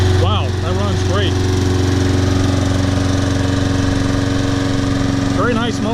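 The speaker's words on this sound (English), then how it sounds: "Very nice mower. Brought it back to life." A Toro Personal Pace Recycler walk-behind lawn mower engine runs steadily at a loud, even idle throughout, with brief voices talking over it near the start and end.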